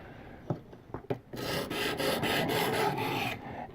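Knife blade drawn over a sharpening stone to raise a burr, a few short scraping strokes and then one long steady rasping grind, close and moderately loud with no talking.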